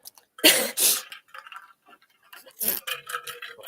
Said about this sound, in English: She's clearing her throat, taking a sip.